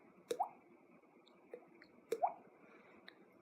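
A mouth imitates water drops: two pairs of soft clicks, each followed by a rising hollow plop, with fainter clicks between them. The imitation is close and quiet, with no speech.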